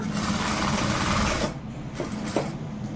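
Sewing machine stitching a zip onto a lehenga, a loud, close, continuous rapid whir that briefly slows and stops midway, then resumes with softer, irregular stitching.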